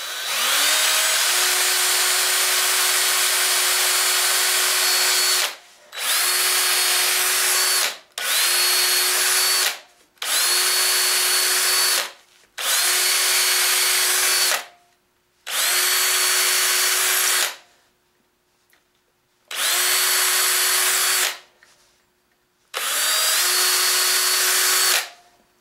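A power drill boring pilot holes in a wooden workpiece on a turning project, loud whining bursts running a few seconds each, about seven in a row, with brief pauses between them and no talk.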